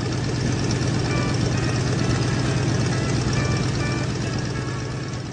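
A plane engine in the video game Twisted Metal: Black drones steadily with a loud, low, pulsing hum and faint higher whine, constant throughout before easing slightly at the end.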